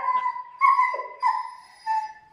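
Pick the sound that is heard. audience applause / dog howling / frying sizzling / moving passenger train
dog howling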